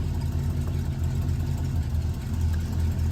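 A 1966 Oldsmobile Toronado barn-find engine idles at about 750 rpm after adjustment, giving a steady, close, low throbbing rumble with even pulses, heard alone for a few seconds.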